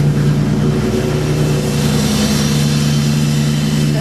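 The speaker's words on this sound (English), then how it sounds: "it sounds a little bit rough because it has no muffler" A 1993 Oldsmobile Cutlass with no muffler idles steadily and close by, a loud, rough, low engine drone with a faint pulsing rumble and no talking.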